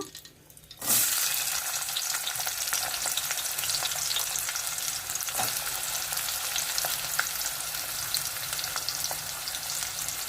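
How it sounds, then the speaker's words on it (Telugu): Chopped onions hit hot oil in a pot and burst into a loud, continuous sizzle that holds steady and close for about ten seconds with occasional crackles, no speech. "ఆయిల్ వేడైపోయింది ఉల్లిపాయ ముక్కలు వేసుకుందాము"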